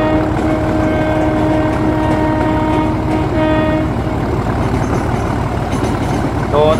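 A train rolls along in a train shunting video game, a steady rumbling run with sustained horn tones sounding over it, loud and near.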